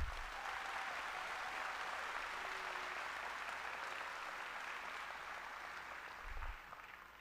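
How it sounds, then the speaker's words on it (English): A graduation audience at a high school ceremony breaks into sustained applause, a dense, even wash of many hands clapping that carries steadily from start to finish with little change in level. "I think we all deserve a round of applause for making it through high school in the middle of a pandemic"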